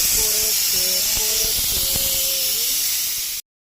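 A pressure cooker cooking mutton curry gives a loud, steady, close hiss of escaping steam with faint tonal wavering inside it, then cuts off abruptly just before the end.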